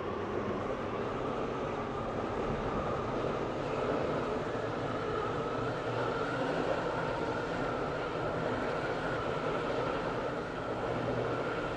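Train ride in a rail simulation video game (SCR), a steady low rumble of wheels and running gear droning evenly and fairly quietly throughout, with no talk.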